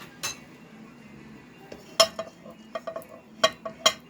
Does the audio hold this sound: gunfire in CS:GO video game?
no